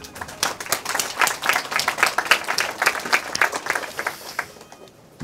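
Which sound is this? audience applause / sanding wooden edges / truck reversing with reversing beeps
audience applause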